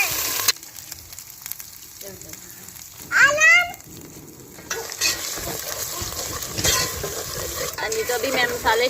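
Browned onions and a paste of dry coriander, green chilies, garlic and ginger frying in a pan in a Pakistani village kitchen, with a steady close sizzle throughout, a brief high chirp partway through, and faint voices in the background.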